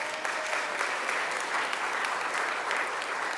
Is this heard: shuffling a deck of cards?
no